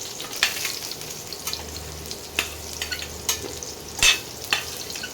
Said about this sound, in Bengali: আলুগুলো লাল লাল করে ভাজা হয়ে গেছে